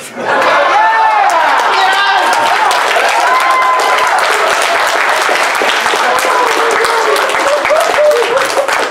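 A crowd applauds performers at a live show, with loud, sustained clapping plus some whoops and chatter, and voices carrying over the top.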